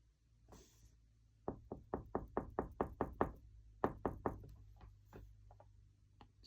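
A homemade batwing turkey mouth call tapped on one side to set the reed: a quick run of about a dozen crisp, close knocks in an even rhythm, with a short pause midway, in a quiet room.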